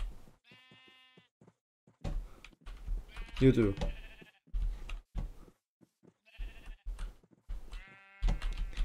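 Sheep in the video game Minecraft bleat in short wavering calls, several times at intervals, mixed with someone talking and occasional keyboard clicks.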